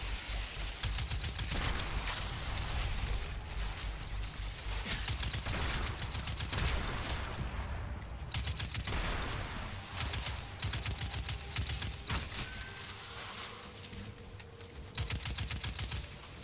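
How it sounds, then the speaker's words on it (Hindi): Rapid automatic gunfire and blasts from Destiny 2 combat against robots, with loud rattling bursts that pause briefly and resume again and again over the whole stretch. "ऑलराइट एक ग्रेनेड मारा है मैंने अभी"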